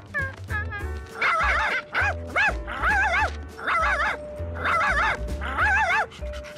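A cartoon dog in the Italian-dubbed Curious George yips and whimpers in a string of high, wavering cries, loud and close, with short gaps between them.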